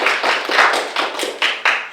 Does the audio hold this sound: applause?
yes